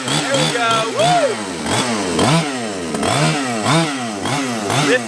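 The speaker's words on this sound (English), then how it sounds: "This thing has got a really loud engine." A radio-controlled car's small engine screams loudly and close, its high whine revving up and down repeatedly in quick, buzzing surges.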